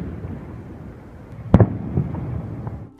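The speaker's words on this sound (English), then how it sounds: "a frostquake." Frostquake during a severe winter cold snap: a single deep, muffled boom mid-clip with a few softer thuds after it, heard distantly over steady outdoor rumble.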